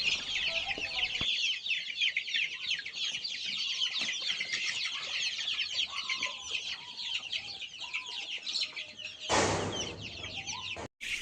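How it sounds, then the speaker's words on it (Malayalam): Native free-range chickens, including the Gramasree breed, clucking at a poultry farm, with a continuous chorus of bird calls and scattered clucks, plus a brief louder burst near the end. "അടുത്തതായിട്ട് വരുന്നത് ഗ്രാമശ്രീ കോഴികളാണ്."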